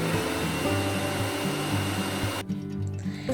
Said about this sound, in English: Now let's grind everything in pulses.